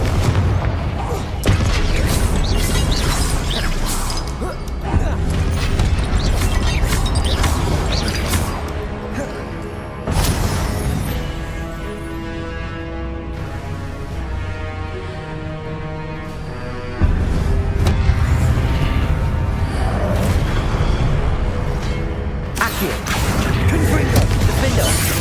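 Repeated Confringo fire spell blasts from the Hogwarts Legacy video game, loud booming and crashing impacts layered over busy game sounds and music for most of the passage.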